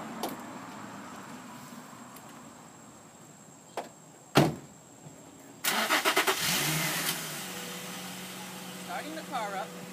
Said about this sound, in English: Starting the car up.